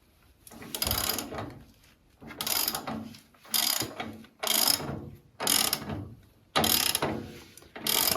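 A ratchet wrench clicks in steady repeated strokes while tightening the stub axle assembly on a 1974 Bolens HT20 garden tractor, with about seven close, even bursts separated by brief pauses.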